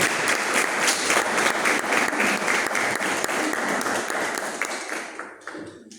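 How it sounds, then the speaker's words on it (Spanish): A church congregation applauds steadily for about five seconds, dense clapping filling the room before fading out at the end. "¿Cuántos le dan un aplauso al Señor?"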